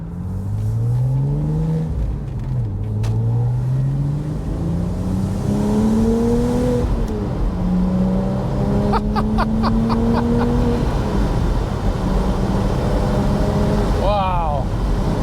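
An original Porsche Spyder engine accelerates hard as its exhaust valves open at higher revs. A loud, rising roar climbs through several gears, with pitch sweeping upward and dropping at each shift over constant road noise.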